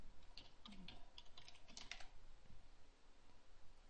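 Keys on a computer keyboard clatter in a quick burst of typing, then trail off into soft background hum, with no talking over it.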